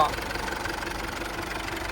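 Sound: Isuzu D-Max 2.5 DDi VGS diesel engine idling

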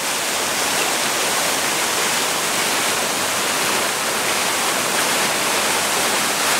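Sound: Milwaukee Art Museum fountain water circulating

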